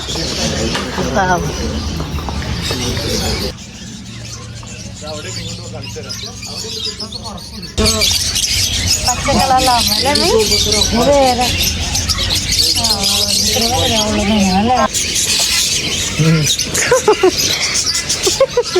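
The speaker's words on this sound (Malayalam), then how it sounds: "കിളികളവിടെ കൂടുതലും" Many birds chirp and tweet at a bird market, a dense chatter of calls beneath people talking nearby.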